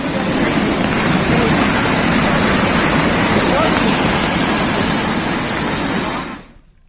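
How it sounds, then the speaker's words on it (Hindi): Floodwater after a cloudburst races fast down roads turned into rivers, making a loud, steady, close roar of rushing water that cuts off abruptly near the end. "देखिए पानी किस तरह से तेज रफ्तार से बह रहा है।"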